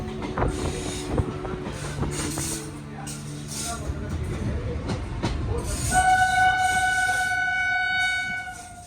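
A train comes in fast from the Kanpur direction on a small Uttar Pradesh line. A low rumble with rail clatter builds steadily, then a loud sustained horn blast sounds near the end.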